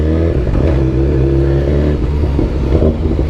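A BMW S 1000 XR motorcycle engine revs while riding, a loud, close, steady droning roar with strong low harmonics and a slight pitch dip as the throttle changes, no talking.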